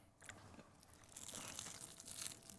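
Crispy battered food bitten into, giving a few crackly crunches that build into a dense, close crunching texture with no talk over it.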